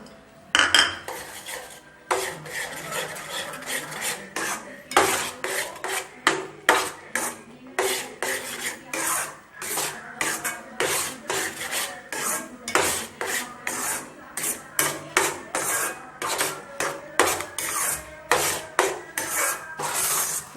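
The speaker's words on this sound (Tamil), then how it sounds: "நல்லா கெட்டிப்பதம் வர்ற அளவுக்கு நம்ம நல்லாவே இதை ஒன்றா மிக்ஸ் பண்ணிக்கலாம்" A utensil scrapes and stirs thick rava gulab jamun dough with ghee in a pan, producing a steady run of close, rhythmic rasping strokes and metallic scrapes with no talking.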